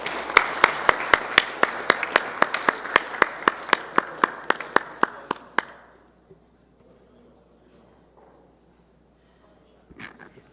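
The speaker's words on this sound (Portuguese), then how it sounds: "Peço uma salva de palmas ao Carlos Sanches." Sparse applause in a municipal council session: a small group claps in a regular, fairly quick rhythm of distinct, sharp claps for about six seconds, then silence and one faint clap near the end.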